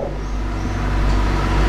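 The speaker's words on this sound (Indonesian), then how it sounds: "Oh, sebentar, ada sepeda motor." A motorcycle rumbles past nearby, its low engine drone steadily growing louder against a constant wash of road noise.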